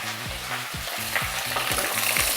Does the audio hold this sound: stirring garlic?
yes